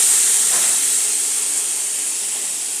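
Boiled matar dal poured into a hot pan sets off a loud, bright sizzle that starts strongly and slowly eases, close and alone.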